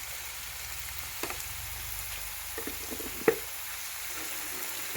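Tomatoes fry in a pan for flattened-rice upma in a village kitchen, making a quiet, steady sizzle with a few sharp stirring taps scattered through it.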